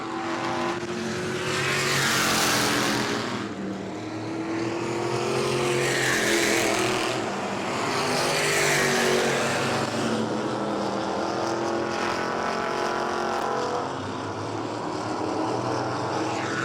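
602 modified race cars roar around New Smyrna in a steady, loud engine drone, with waves of passing cars sweeping by in surges and no one talking.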